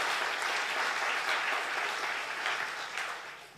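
A church congregation at a Sunday worship service in Batam applauds together, a dense, even wash of clapping that holds steady and fades slightly at the end, with no voices over it.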